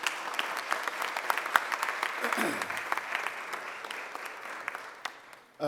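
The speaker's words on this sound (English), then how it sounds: "join me in giving a huge round of applause for our superintendent, Dr. Watlington" A press conference audience applauds the school superintendent in a steady, moderately loud round, with a voice briefly heard partway through and the clapping fading before someone begins speaking.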